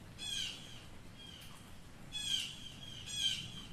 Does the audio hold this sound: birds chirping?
yes